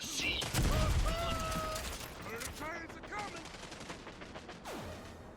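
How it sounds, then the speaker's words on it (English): Rapid bursts of Gatling gun fire rattle in a dense volley up front in the video game Rogue Company, followed by scattered mechanical clicks and effects as a voice talks briefly. "I got Cannon in front of me with the Gatling gun out"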